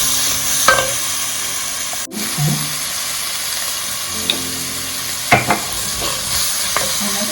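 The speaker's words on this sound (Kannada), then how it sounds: "ಈ ಎರಡು ಟೊಮೊಟೊ ಹಚ್ಚಿಟ್ಟಿರೋದನ್ನು ಈಗ ಹಾಕ್ತಾ ಇದ್ದೀನಿ ಇನ್ನೂ ಸ್ವಲ್ಪ ಬಾಡಿಸಿ" Chopped tomatoes sautéing in a pan for avarekai palya, a steady close sizzle broken by a few spoon scrapes and knocks against the pan.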